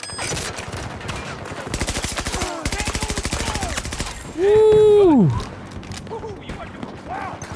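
Rapid, loud bursts of SMG hip fire in Battlefield 2042, crackling shots in quick succession, followed by a strong falling whine-like tone that fades out.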